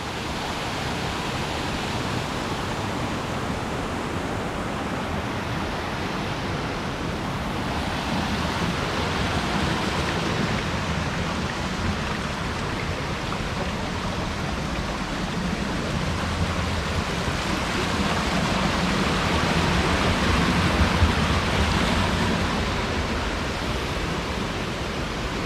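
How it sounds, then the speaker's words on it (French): Waterfalls on a trail in Bosnia, a steady dense roar of falling water that stays loud and continuous throughout, with no voices. "il y a apparemment les plus jolies cascades"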